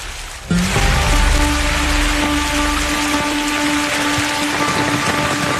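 Heavy rain hisses steadily and loudly after a brief quiet start, a dense continuous wash of falling water with no voices.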